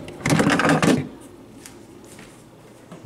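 Old water filter being pulled out of a white Whirlpool side-by-side fridge, a short burst of close plastic scraping and clicking for about a second, then quiet room tone.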